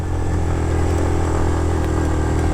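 A motorcycle rides a mountain road toward Upper Kachura Lake near Skardu, its engine droning steadily and close throughout with a low, even hum and no voices.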